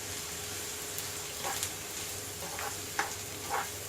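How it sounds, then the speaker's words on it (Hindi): Onions sizzling in a couple of spoons of hot oil in a home kitchen pan, a steady soft hiss throughout with a few brief crackles and spatters popping up near the end. "अभी मैं प्याज डाल रही हूँ तलने के लिए"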